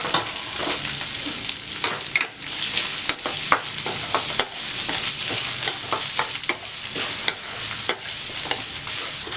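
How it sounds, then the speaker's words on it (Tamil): Ginger, onion, green chili and curry leaves sauté in a hot pan for egg idli upma, a steady sizzle broken by frequent sharp scrapes and clinks of stirring, close and fairly loud with no talking. "இஞ்சி, வெங்காயம், பச்சை மிளகாய், கருவேப்பிலை. நல்லா வதங்கட்டும்."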